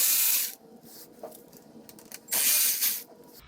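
A T25 driver works bolts loose on a 2021 Harley-Davidson Road Glide Limited, heard as two bursts of close, hissy ratcheting or grinding, each lasting under a second, separated by quieter handling noise.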